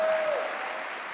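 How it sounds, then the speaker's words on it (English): Audience applause at a New York mental health summit following a governor's speech, a steady dense wash of clapping from a large crowd throughout, fairly loud and even. "Let's give her a big round of applause"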